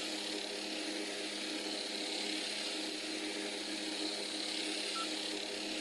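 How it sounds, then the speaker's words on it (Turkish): Steady, loud propeller airplane engine drone from a flight simulator game during a landing approach, a continuous even hum with no talk over it. "Uçak sürmek de bayağı bir cesaret ister."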